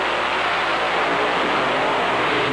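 Drag racing cars at a 1996 meet roar hard off the line, a dense, loud, continuous engine blast with no break, heard close.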